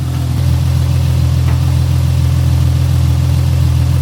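A Porsche GT4 engine with new headers idles steadily and close by, a deep even burble with a low pulsing throb that holds level throughout, with no voices.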